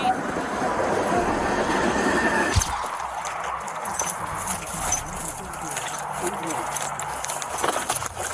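A train approaching a police cruiser parked on the tracks, caught on a dashcam: heavy rolling rumble with clattering wheels and faint squeals, joined by a sudden loud crash partway through, with voices talking over it.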